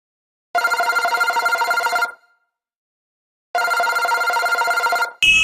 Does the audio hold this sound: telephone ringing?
yes